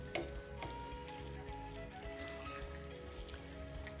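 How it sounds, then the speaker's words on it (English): Tomato harissa paste simmering in a pan, a faint, steady soft sizzle and bubbling with small pops, running continuously under a low background drone. "So we're gonna let this simmer nicely and let those tomatoes just do their thing"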